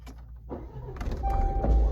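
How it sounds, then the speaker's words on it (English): A car's power window rolls down with a steady motor whine that starts after a brief pause and builds, close and moderately loud inside the vehicle. "I might end up letting this window down"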